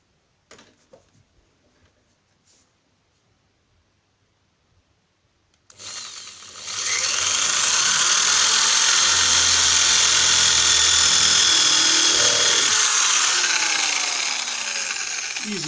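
Power drill boring a guide hole into a door for a deadlock, a few faint knocks then a sharp whining spin-up into a loud, sustained grinding bite through the wood.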